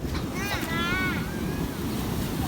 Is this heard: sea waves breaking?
yes